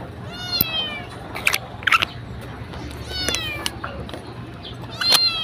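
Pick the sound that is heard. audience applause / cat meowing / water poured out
cat meowing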